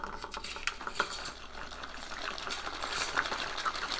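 A shaken whiskey or pisco sour poured through a cocktail shaker's built-in strainer, with a soft liquid trickle, light clinks and rattling ice against metal, close and quiet.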